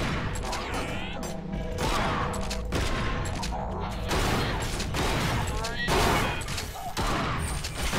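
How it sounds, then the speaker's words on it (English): Shotgun blasts in the PC first-person shooter Bunker Punks, a dense run of loud, booming shots with mechanical clatter layered over game sounds. "Shotgun is pretty dope, not gonna lie, it feels powerful"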